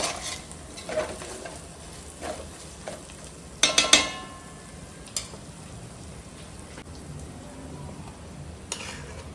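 Freshly ground spice paste frying in a pan: a soft continuous sizzle with a burst of clattering and scraping as the paste is added and stirred, then quieter frying with occasional clicks.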